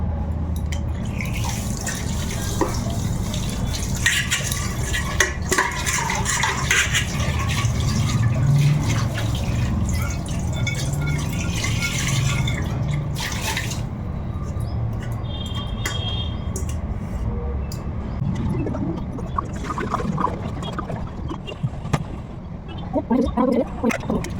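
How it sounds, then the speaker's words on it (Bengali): Liquid is poured into a pot at home, a long gurgling and dripping stream of water that runs steadily and close with faint background noise. "ওর জন্য আর কি হাঁড়িতে করে ঢালা চলো"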